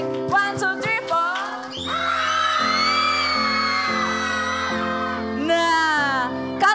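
A group of children yell together loudly in a sustained, high-pitched shout at a kids' Passover celebration, with brief voices before and after.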